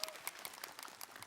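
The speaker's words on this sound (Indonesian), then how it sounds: "Tepuk tangan dong perempuan dong." Women in an audience at an Islamic talk for women applaud, a crowd of brisk, scattered claps rising and falling over a short stretch.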